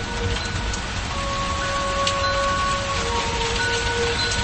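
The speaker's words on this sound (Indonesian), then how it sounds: "hujan turun dengan deras" Heavy rain falling outside a house at night, a dense, continuous hiss that holds steady throughout with no voices.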